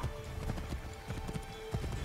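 Quick, rhythmic clip-clop of horse hooves from a galloping mount in the Assassin's Creed 3 game, steady and close with a faint background drone and no talk.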